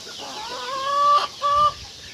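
A hen gives a couple of drawn-out clucking calls, close and clear, with a short gap between them over quiet background.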